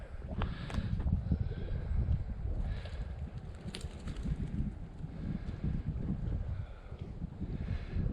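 Wind gusting across a remote lake island in the Cariboo region of British Columbia, a steady low rumbling buffet against the microphone, with faint scattered higher sounds above and no talking.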